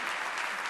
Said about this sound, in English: since you just applauded